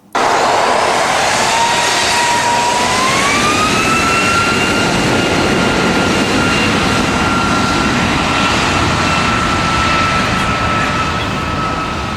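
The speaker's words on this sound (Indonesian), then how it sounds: "kita take off menuju ke Jeddah dari Doha, sama menggunakan maskapai Qatar Airlines ya" A Qatar Airways jet flying from Doha to Jeddah gives a loud, constant engine roar with a tonal whine that rises in pitch early on and then stays level. The sound is steady throughout with no talking.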